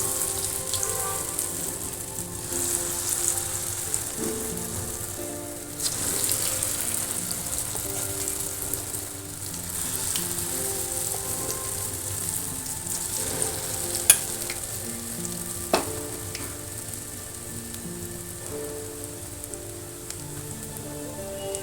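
Black-eyed bean bonda batter fries in hot oil, a steady close crackling sizzle running throughout with a few sharper pops and spatters and no voices.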